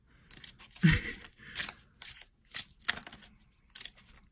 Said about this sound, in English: All these decks are pre-shuffled, by the way. I'm just shuffling for you guys.